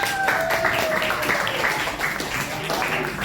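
A class applauds a student in an Indonesian classroom, a dense patter of many hands clapping continuously throughout, with a voice faintly over it.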